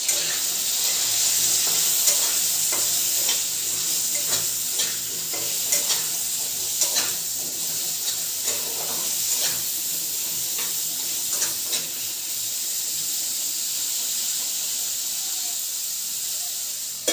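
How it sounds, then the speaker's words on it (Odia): Cut potatoes frying in oil with salt and turmeric, a steady sizzle and hiss throughout, with occasional sharper crackles and stirring scrapes, close and fairly loud. "କାଟି ରଖିଥିବା ଆଳୁକୁ ଭଲ ଭାବରେ ଫ୍ରାଏ କରିନେବା"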